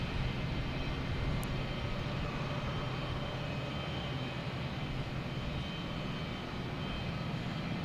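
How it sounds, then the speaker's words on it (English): A JetBlue Airbus A220 arriving from Savannah at Boston Logan gives off a steady, broad engine roar that holds at an even level throughout, moderately distant and unbroken by voices. "We also have a JetBlue coming in from Savannah,"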